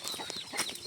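A small chicken clucks near a rural home: a brief, soft burst of close clucking notes lasting under a second, with no talk.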